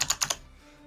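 Four quick, crisp keystrokes on a computer keyboard, close and fairly faint, then a brief quiet tail.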